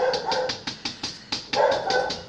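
A dog barks in a quick run of about eight close, loud barks with an uneven rhythm, some sounding higher and whinier, with no talking over them.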